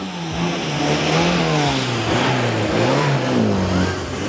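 A classic Mini's engine revs steadily with the handbrake on at a Mini show, a loud, close, sustained mid-pitched drone that rises and falls slightly in pitch.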